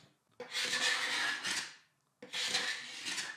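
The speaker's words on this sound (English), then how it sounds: "For the top, my go-to method has always been scraping with a card scraper or a carbide scraper" A carbide scraper rasps old finish off a walnut writing desk top in two distinct, close scraping strokes separated by a short pause.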